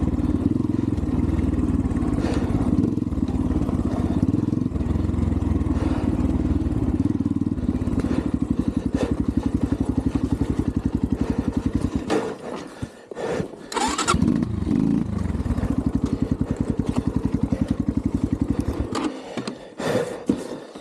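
A 250 TemplarX dirt bike engine revs and idles loudly and up close for about twenty seconds, with a steady buzzing drone that drops out briefly near the middle and again near the end before picking back up.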